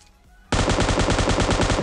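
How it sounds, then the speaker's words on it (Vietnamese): Rapid automatic gunfire from PUBG Mobile on the Sanhok map bursts in suddenly after a quiet half second, then rattles on loudly in a steady, evenly spaced stream of shots to the end. "bạn này hình như đang bắn ai đấy trong khu nhà đây rồi"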